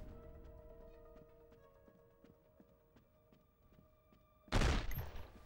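Gunfire in the 24 video game: a quiet run of evenly spaced shots ticking along, then a sudden loud, harsh burst near the end, with no talking.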